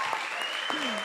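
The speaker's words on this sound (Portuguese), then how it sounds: "Palmas, pô." Applause from a church audience at a worship music session, a steady wash of clapping running throughout with voices talking over it.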